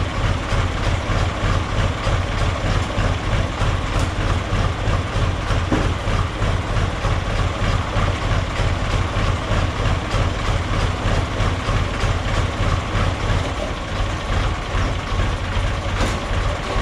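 Old Valmet 361D tractor diesel engine idling after starting, a loud, steady low chugging rumble with a fast even pulse, heard close up for a long stretch without talk.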